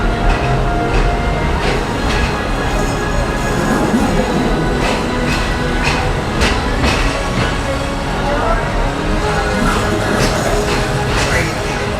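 A Walt Disney World Railroad locomotive train runs with a loud, continuous rumble, and faint rhythmic clicks of the wheels sound over it. The rumble stays steady and close throughout.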